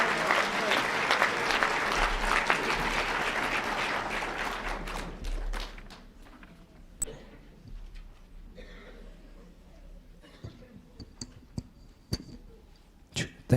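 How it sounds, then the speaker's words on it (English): An audience at a Martin Luther King Jr. birthday celebration applauds a student choir, dense clapping that thins after about five seconds into scattered individual claps and sharp isolated smacks. "Let's give them a big round of applause."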